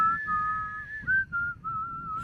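A voice whistles to imitate air escaping from the cardboard sleeve of a microwaved Hot Pocket. The whistle is a sustained, wavering tone with brief breaks, close and fairly loud over low room noise.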